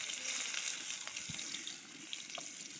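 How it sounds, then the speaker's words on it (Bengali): Chopped onion frying in mustard oil, a steady close crackling sizzle with a few faint clinks and stirring scrapes, no voices. "পেঁয়াজ কুচি দিলাম"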